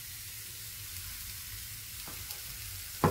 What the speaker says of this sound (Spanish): Y vamos a dejar que se sofría muy bien la cebolla